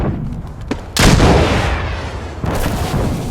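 Heavy artillery blasts in Insurgency Sandstorm, a loud, sustained broadband roar of explosions that rumbles for over a second, with a second blast following close behind.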